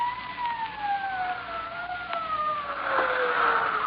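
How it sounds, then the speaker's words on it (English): A police siren wails, sweeping slowly downward in pitch, steady and fairly loud, with a faint rumble of traffic beneath it. "Sirens. Can't you hear them?"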